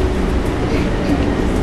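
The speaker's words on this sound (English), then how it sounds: "Lambie, we're going over the bridge on the train." A train crossing a bridge, with a steady, close rumbling roar of wheels and carriage that holds loud and unbroken throughout.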